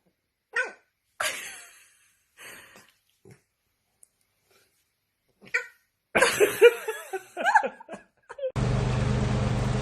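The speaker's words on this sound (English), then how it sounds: "This is my dog Duck." Pet dog gives several short, scattered barks and yelps with silent gaps between them, then a louder burst of barking before a sudden steady hiss of noise.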